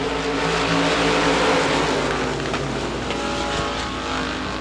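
USA Limited Modified race cars thunder off the start at Devils Bowl Speedway, a steady, loud engine roar from several cars blending together with a droning, humming tone and no talk.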